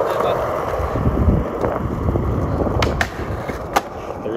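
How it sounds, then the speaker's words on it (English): A skateboard performs a Kruger grind, with a rough scraping grind over rolling wheels and several sharp clacks of the board. Wind buffets the microphone throughout. "It's a really good Kruger grind."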